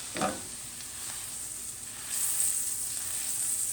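Shrimp scampi with capers in their brine sizzles steadily in a hot pan, a close, even frying hiss with a brief splash near the start and a brighter, louder crackle in the second half.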